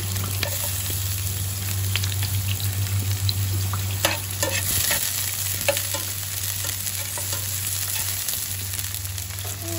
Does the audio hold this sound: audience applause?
no